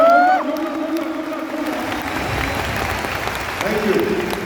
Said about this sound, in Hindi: जोरदार ताली बजा सकते हैं इनके लिए?